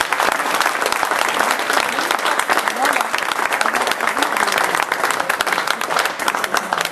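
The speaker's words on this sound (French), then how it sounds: "applaudir très fort Daniel Cravier et Laurent Schmitt" Audience clapping loudly and continuously for Daniel Cravier and Laurent Schmitt after a numismatic talk, dense applause that fills the room and never lets up, with murmured voices beneath it.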